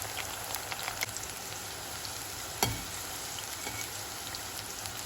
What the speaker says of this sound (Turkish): Patlıcanlarımız altın sarısı olana kadar kızartıyoruz.